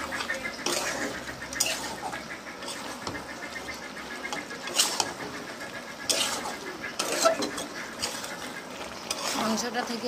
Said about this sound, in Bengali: আবারও ভালো করে নেড়ে দেব।